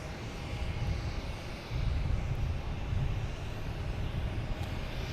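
A JetBlue Airbus A320 arriving at Boston Logan from Santo Domingo gives a faint, distant, steady jet rumble that thickens slightly partway through and holds on without any voices.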